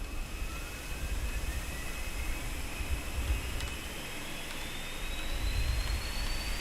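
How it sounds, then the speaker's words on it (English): An Airbus A330's number 2 engine starting up in the X-Plane 12 flight simulator: a steady jet roar with a rising turbine whine that climbs in pitch as the engine spools up, with rumbling low noise underneath. "let's go ahead and ignite engine number 2"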